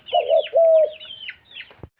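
Pet pigeons give a few close, loud coos, a quick pair of rolling notes then a longer drawn one, followed by softer calls and a sharp single knock.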